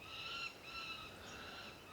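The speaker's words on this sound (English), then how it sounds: "Yeah, there's some birds here." Birds calling in an African rainforest, a steady chorus of overlapping high whistles and calls, moderately distant, with no voices.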